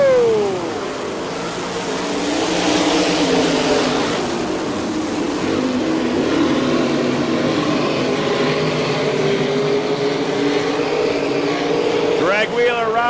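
Sprint cars in an All-Star Circuit of Champions heat race at I-96 Speedway, Lake Odessa, Michigan, roar in a continuous loud engine drone with rising and falling pitch as they pass, under an announcer's voice.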